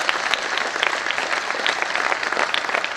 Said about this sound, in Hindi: मैं आपसे पुनः आग्रह करूंगा कि एक बार बहुत जोरदार करतल ध्वनियों से